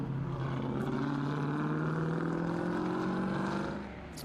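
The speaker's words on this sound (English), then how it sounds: "block Ford-powered Mercury Cougar, 7-litre V8 in this thing. Absolute beast. Just have a listen to this thing." Ford-powered Mercury Cougar race car with a 7-litre V8 at a historic sprint event, a deep steady engine drone holding a strong low tone throughout, easing slightly near the end, heard from a moderate distance.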